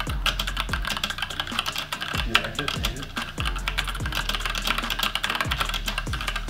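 Rapid, steady clacking of keys on a mechanical computer keyboard with heavier keycaps, close and continuous, with soft low thumps from the keystrokes.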